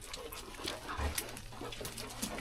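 A dog whimpering on a desert outing, faint high yips and whines scattered across a short stretch, close by over outdoor background noise.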